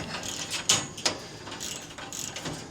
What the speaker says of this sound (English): it takes a 10 millimeter socket